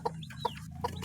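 A brooding hen clucks softly and close, three short rhythmic clucks within a second, alongside faint peeping from newly hatched chicks.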